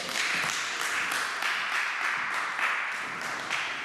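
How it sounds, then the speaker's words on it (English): A church congregation clapping together, with a steady, dense patter of hands that rises and dips in waves, alone and fairly close. "Let's clap for Jesus."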